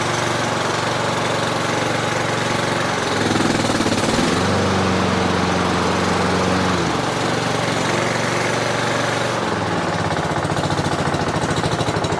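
A Honda lawn mower engine with a stuck-engine fault, running on choke: a loud, continuous, close engine drone with a rattling, hammering pulse and a brief rise in pitch midway, no talk.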